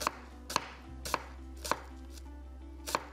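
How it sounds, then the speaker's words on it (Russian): A knife chops down onto a cutting board in five sharp, evenly spaced strikes, cutting vegetables lengthwise, close and distinct over quiet background hum. "я сейчас режу вдоль"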